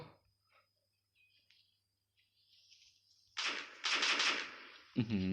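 Rapid automatic gunfire in the battle game Battle of Visburg arrives after a quiet stretch of faint game sounds, as a few seconds of loud, dense bursts near the end.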